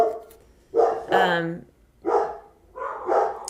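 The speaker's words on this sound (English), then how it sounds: "I apologize for the dogs." Dogs bark in several loud, close bursts, with a yip or whimper among them, breaking through intermittent talk during a live question-and-answer session.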